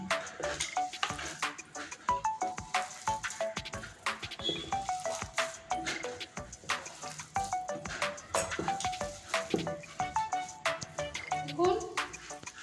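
Chopped water spinach is worked into a thick gram flour batter by hand, giving soft wet squelching and stirring in an uneven rhythm, close but quiet, under background music and a voice.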